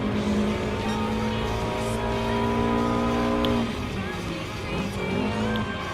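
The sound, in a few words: race cars overtaking in Gran Turismo Sport video game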